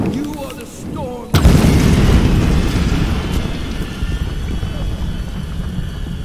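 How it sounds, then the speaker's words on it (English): A big in-game explosion in the Tomb Raider (2013) video game bursts in suddenly as a loud boom, then rolls on as a long rumbling roar that slowly fades, with a quieter stretch of low sounds just before it. "That was a big explosion."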